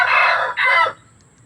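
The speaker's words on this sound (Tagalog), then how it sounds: "So, sunod-sunod na yung pagtilaok niya." A young wild red junglefowl rooster (labuyo) gives a short, high-pitched crow, loud and close, split into two quick bursts and then cut off abruptly.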